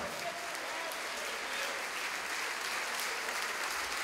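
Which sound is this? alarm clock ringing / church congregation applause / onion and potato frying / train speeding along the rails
church congregation applause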